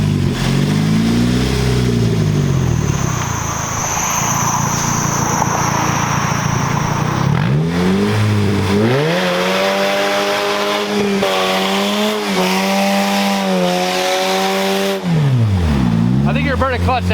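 A car doing a burnout, its engine revving hard and rising and falling in pitch while the tires spin and screech, loud and close, with people talking over the noise.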